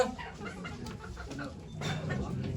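Chickens clucking at a chicken auction in Ankara, a dense chorus of fowl calls over a busy crowd, with an auctioneer's voice and bidding chatter mixed in.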